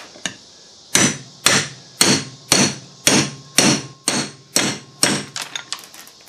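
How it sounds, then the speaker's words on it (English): About ten sharp metallic hammer blows ring out on a failed water pump from a 330,000-mile engine at a steady pace, loud and close, with a quicker flurry of lighter taps at the end. "if hitting it with a hammer will help."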